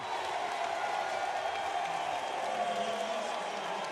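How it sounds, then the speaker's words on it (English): Spectators at a men's water polo bronze medal match between Hungary and the USA roar in a sustained, even wall of cheering that fills the arena without letting up. "The crowd goes wild"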